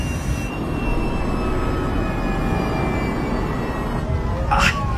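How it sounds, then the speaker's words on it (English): A jet airliner rolls out on the runway after landing, its engines roaring loud and steady as it brakes hard to slow, with a brief higher whine near the end. "Then finally the plane begins to slow."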